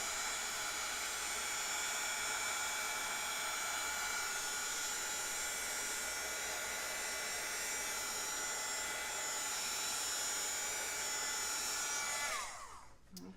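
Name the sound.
heat tool drying ink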